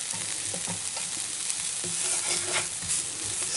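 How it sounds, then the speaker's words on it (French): Chopped onion sweating in a frying pan for a salmon cream sauce, a continuous close sizzle with spatula scraping and stirring strokes through it, steady and fairly loud, no voices. "On va mettre l'oignon à suer."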